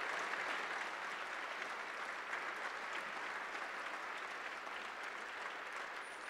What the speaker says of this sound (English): I ask you to join me in a round of applause in recognition of Ted Kennedy